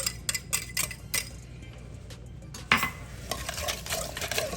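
A spoon folds raw vegetables and peppers into couscous salad in a bowl, giving soft scraping and light clinks of utensil against the dish, close and moderately quiet, in irregular strokes without speech.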